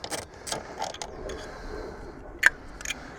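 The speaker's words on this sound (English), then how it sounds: "make sure you push down against the back of the ratchet as you undo, and then that should just unscrew nicely" A socket ratchet undoing the mounting screw of a car horn on a MINI R50/R52/R53, giving a few short mechanical clicks and creaks close by, spaced irregularly over a quiet workshop background with no talk.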